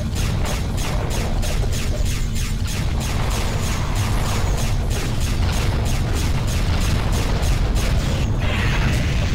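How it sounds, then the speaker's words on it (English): Explosions and mechanical combat effects from the space combat video game Silent Threat: Reborn, a dense loud rumbling blast bed with rapid repeating clicks and pulses running throughout. "That's a pretty nice explosion."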